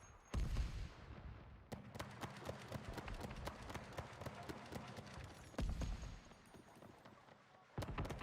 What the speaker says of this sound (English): They have a cannon way in the back center.